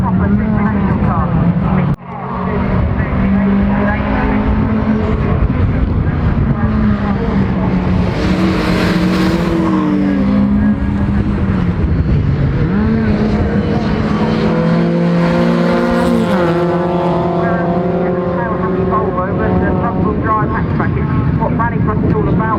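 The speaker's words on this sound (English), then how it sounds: "We've got the Mitsubishi powered Ford Fiesta Evo, good proposition, a really good strong Rallycross car indeed." Rallycross race cars at Croft Circuit, including a Mitsubishi-powered Ford Fiesta Evo, with loud continuous engine roar and rising and falling revs as cars race close by, under a commentator talking throughout.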